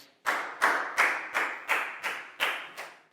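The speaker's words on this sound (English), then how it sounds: "a big round of applause for Bangpon" A Year 4 class claps for a student in a maths lesson, about eight sharp claps in unison with an even, steady rhythm and no voices.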